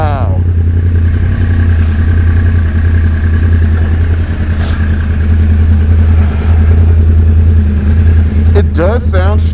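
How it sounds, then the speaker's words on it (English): A Yamaha R1 sportbike engine idles and revs with a deep, steady, throbbing drone up close, while people talk over it throughout. "It sounds like a MotoGP bike, dude."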